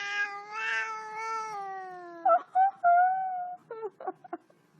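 A house cat gives a long, drawn-out meow up close, followed by a series of short chirping mews and small trilling calls, with no talk over it.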